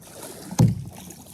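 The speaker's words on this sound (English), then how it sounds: "Paddling in middle of the mangroves." A kayak paddle dips into calm water among mangroves, one close splash-stroke with a short swirl rising over a quiet outdoor background.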